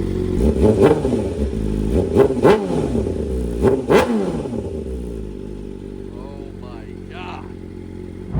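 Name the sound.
motorcycle exhaust revving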